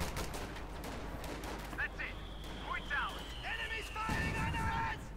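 Bursts of rifle and machine-gun fire crackle through a Company of Heroes 2 battle, with infantry combat sounds beneath them and someone commentating over the action.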